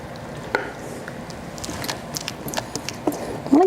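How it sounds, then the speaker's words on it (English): Zucchini bread batter scraped into a parchment-lined, buttered pan with a spatula, soft irregular scrapes and light taps close by, with a brief voice near the end. "Scraping with a spatula is underrated."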